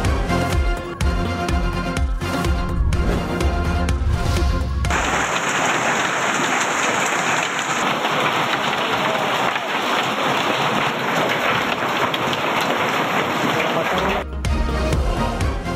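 Heavy torrential rain pours steadily in a broad hiss, bracketed by stretches of rumbling low sound like thunder from a storm in Pakistan, with the downpour dominating the middle and no voices over it.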